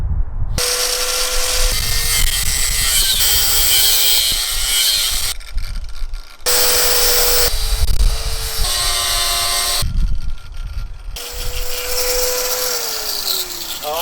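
An angle grinder with a cutting disc slices through metal bolts outdoors, loud whining and screeching in several long passes with brief pauses, the pitch dipping as the disc bites, close and dominant.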